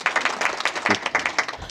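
A small workshop audience claps for a couple of seconds, a dense patter of hand claps that fades out.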